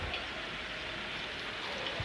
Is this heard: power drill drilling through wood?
no